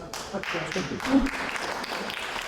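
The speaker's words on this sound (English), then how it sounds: "Applause" An audience applauds at a public meeting, a brief patch of scattered clapping mixed with low murmuring voices.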